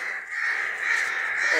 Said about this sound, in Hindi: कौवे शायद शोर कर रहे हैं हमारे आने से